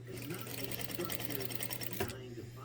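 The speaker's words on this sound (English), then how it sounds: "But this is my new sewing machine." A new sewing machine stitches a quilt in a rapid, steady mechanical rhythm, close and continuous, pausing briefly near the end as it runs out of thread.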